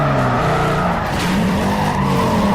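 Tires squeal in a long skid after a handbrake turn in Need for Speed Carbon, loud and close over a revving race car engine, with the engine pitch sliding as the car drifts.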